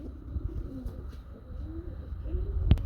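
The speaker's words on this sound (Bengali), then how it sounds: "কবুতরগুলো ছটফটা বেশি দেখেন" Pigeons on a farm coo in a series of low, repeated calls over steady background noise, with a brief sharp click near the end.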